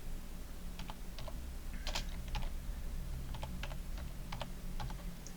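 Typing on a computer keyboard, scattered quick clicks in irregular clusters over a low steady hum, fairly close and moderately quiet, with no voices.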